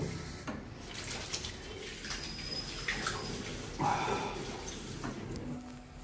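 Hands being washed under a running tap, a steady splashing rush of water with shifting surges, close and moderately loud, with faint voices in the background.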